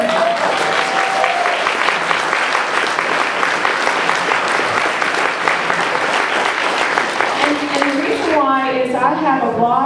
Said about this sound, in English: Everybody clap for him.